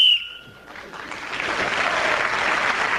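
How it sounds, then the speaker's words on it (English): A sharp whistle on a radio panel game signals the end of a turn, a bright sustained tone in the opening moment that gives way to steady studio applause. "Speaking as the whistle went"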